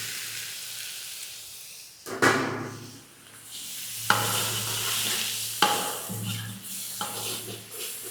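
Tomato paste dropped into a hot pan for chicken sherva, bursting into loud sizzling and frying hiss, with spoon scrapes and stirring clatter recurring as it cooks.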